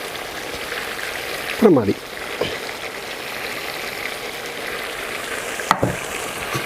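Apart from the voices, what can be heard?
sliced onions frying in a pot for biryani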